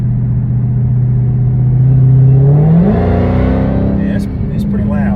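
A Dodge Hellcat engine revs loudly through an active exhaust with catalytic converters, a deep rumbling note, pitch climbing and then holding steady, close and sustained.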